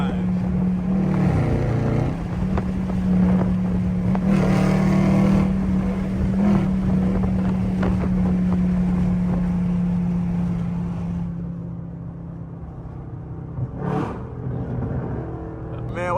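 A catless Dodge Scat Pack driven hard, its exhaust a loud, close, rumbling drone that surges and swells as it revs, briefly easing near the end, with occasional voices underneath.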